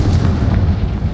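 A Confringo spell blast in Hogwarts Legacy, a loud, close, booming burst with a dense low rumble filling the whole short moment, alone without voices.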